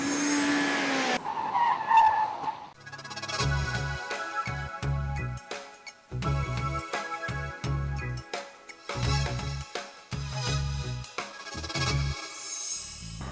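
A Skoda Laura car skids with a loud, sharp tire squeal at the start, followed by engine and road noise over a pulsing low rhythmic thump.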